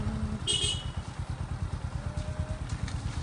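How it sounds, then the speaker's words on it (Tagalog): A motorcycle engine idles and putters close by on a provincial village road in Aklan, with a steady pulsing rhythm and a brief higher whine near the start, suggesting a passing car. "may motor, may kotse daddy"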